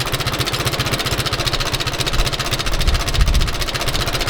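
A restored old Allis Chalmers WD tractor engine runs steadily nearby, with an even, chugging idle and a brief rise in loudness partway through.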